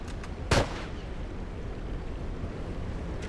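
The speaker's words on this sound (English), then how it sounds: "This hunting rifle, man, seems to be the way to go." A single hunting rifle shot in The Last of Us multiplayer, one sharp loud crack that decays quickly into a low ambient rumble, with no talking over it.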